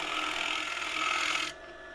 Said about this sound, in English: The scraper's working absolutely beautiful.